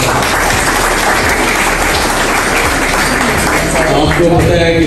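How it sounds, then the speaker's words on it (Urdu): A crowd applauds a district police officer at a public event, a dense, steady wash of clapping that fills the clip evenly from start to end and swells slightly at the close. "یہ جو آپ آتے ہیں اور یہ بوجھل سے دل کے ساتھ تالیاں لگاتے ہیں"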